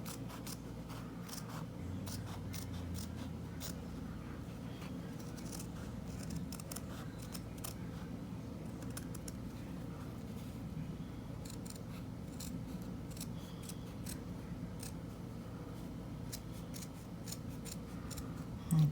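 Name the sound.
scissors cutting out a paper circle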